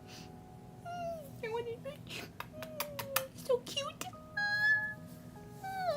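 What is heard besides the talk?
cat meowing in a video being watched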